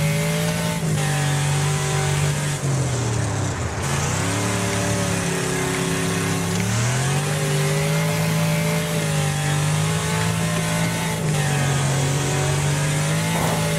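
Race car engines in the demolition racing video game Wreckfest roar loudly and continuously, rising and falling in pitch as the cars rev and shift gears throughout.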